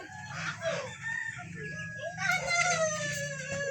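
Rhode Island White cross chickens cluck and crow in a new coop, their calls continuous and fairly close, with a rooster's crow rising through the steady flock chatter.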